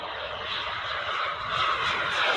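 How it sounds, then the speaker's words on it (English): Model jet planes flying past, a steady loud roaring whoosh of jet engines that swells slightly as they pass, continuous throughout with no talking. "Listen to them when they go by, though. They sound like a real jet."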